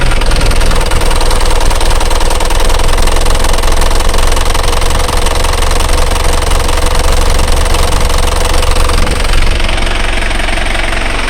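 Isuzu Panther diesel engine idling at too-low RPM, a steady, loud knocking rumble with heavy vibration running continuously close to the microphone, easing slightly near the end.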